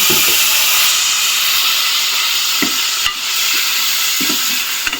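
Chicken goes into a curry on a stove and meets a loud, steady sizzling hiss, broken by a few soft knocks and stirring sounds.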